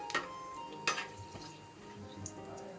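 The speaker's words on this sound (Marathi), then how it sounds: "3 छोट्या वेलची, 3-4 तमालपत्र आपण हे तेलात घालणार आहोत। ते थोडं 1 सेकंदभर परतून घ्यायचं आहे।" Cardamom pods and bay leaves sizzling in hot oil in a pan, a faint steady crackle broken by a couple of sharp metallic taps from a utensil, with no one speaking.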